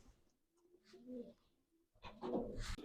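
Pigeons coo at a village pigeon show, soft low throaty calls close by, followed by a louder burst of fluttering and rustling activity.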